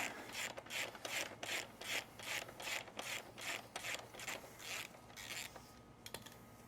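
A ratchet wrench loosens the rear axle nut on a Surron electric dirt bike fitted with Warp 9 axle blocks, giving about a dozen quick bursts of metallic clicking in steady rhythm, close and moderately loud, then trailing off.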